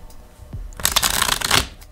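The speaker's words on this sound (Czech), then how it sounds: "Já si tady jenom domíchám kartičky" A deck of tarot cards is shuffled close up in one quick, rustling burst of about a second. It follows a soft tap and is clear and fairly loud, with no talking.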